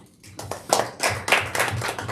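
A small audience at a UN side event claps in a loose, uneven patter, heard close. The claps start sparse and grow fuller over a couple of seconds, with no speech over them.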